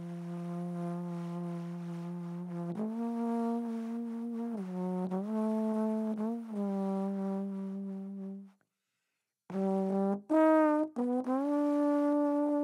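Trombone overblown with heavy air pushed through the bell, producing breathy, buzzing sustained tones that bend and shift pitch in several held phrases, with a brief silence before a final burst of short notes.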